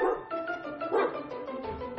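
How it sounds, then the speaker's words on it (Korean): A dog barks on a rooftop, a quick burst of several close, loud barks in succession. "개 짖는 소리도 심상치 않더니"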